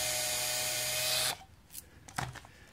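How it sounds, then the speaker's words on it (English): A power drill spinning a bit that is rocked side to side to slot a hole while building a small-bird feeder: a steady, fairly loud whir for about a second, then it stops, leaving faint scrapes and taps. "So you want to put your drill bit in like that and then rock it side to side"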